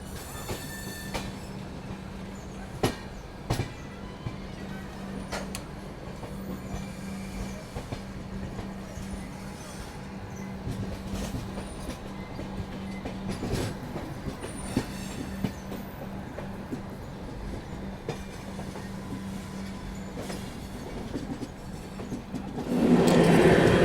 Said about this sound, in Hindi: धीरे धीरे ही सही पर अपनी ट्रेन ने आगरा कैंट रेलवे स्टेशन को भी स्किप कर लिया